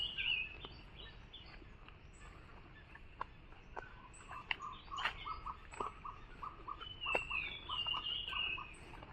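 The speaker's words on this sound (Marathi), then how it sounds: "कुठल्या कुठल्या पक्ष्यांचा आवाज येतो नवीन" Various birds calling across an open field beside a mango and cashew orchard in the rainy season, faint scattered chirps and short warbling phrases over a soft outdoor hiss, no speech.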